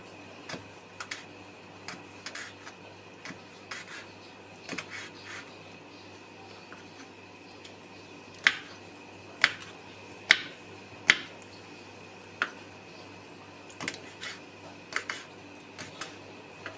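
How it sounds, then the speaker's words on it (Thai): A knife slices through aloe vera leaves in quiet, scattered sharp clicks and taps, some louder strikes bunched in the middle, over a faint steady background hum. "เราจะหั่นว่านหางจระเข้ในลักษณะอย่างนี้นะคะ"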